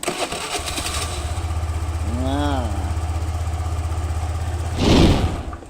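A hard-starting motorcycle with a new spark plug fires up almost at once and settles into a steady, close idle, with a brief rising and falling tone partway through and a louder burst near the end.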